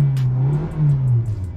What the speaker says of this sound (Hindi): अभी हम थोड़ा हायर आरपीएम पे ले जाकर देखेंगे, थोड़ा रेव करके दिखाता हूं आपको केबिन में।